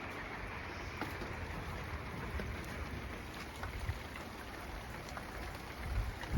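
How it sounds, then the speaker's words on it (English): Rain patters on the roof of a homestead sheep house, a soft, even hiss of drops that holds steady throughout with a faint bump at the very end. "You can hear the sounds of rain on the roof."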